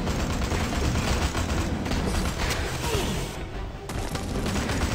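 Gunfire in the Suicide Squad Special Ops video game, a dense, loud barrage of rapid shots and booms filling the whole moment with no talk over it.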